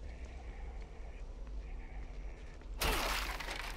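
Wooden boxes get smashed in the video game The Evil Within 2: a quiet, murmuring game ambience gives way to one sudden loud splintering crash near the end that lingers briefly.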